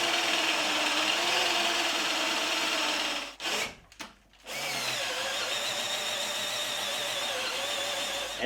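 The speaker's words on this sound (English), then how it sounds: "Even with the small drill in second gear and much less effort, a 25mm hole is totally possible." A small electric drill in second gear boring a 25mm hole in hardwood, a loud steady whine that stops briefly partway through and then resumes, no talk.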